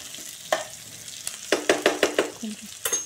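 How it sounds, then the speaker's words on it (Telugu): Onions fry in a pan, giving a steady soft sizzle under a series of sharp scraping stir strokes in quick rhythm that are close and fairly loud, with no talk. "ఉల్లిపాయలు కొంచెం వేగాయి కదండి"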